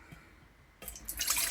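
Water pours into a mixing bowl for bread dough, starting as a faint drip and then bursting into a splashing, bright stream for the last moment of the short clip.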